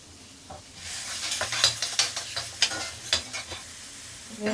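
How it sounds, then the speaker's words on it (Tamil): Small onions fry in oil with fennel and cumin while a spatula scrapes and stirs them, producing a close, crackling sizzle with a quick run of rhythmic strokes that fades toward the end. "சின்ன வெங்காயமாக 2 வெங்காயம் கட் பண்ணோம்ல அந்த வெங்காயத்தை போட்டுருவேன்"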